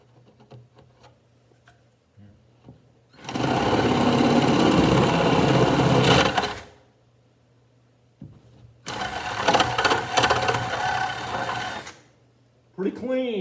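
A power drill bores a hole for a boat's centerboard in two loud, close bursts of several seconds each, with a quieter gap between them.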